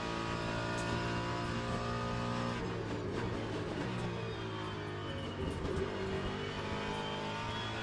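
A race car engine in the Le Mans Ultimate racing simulator revs and pulls through the gears, a sustained droning whine that shifts pitch midway, moderately loud with no talk.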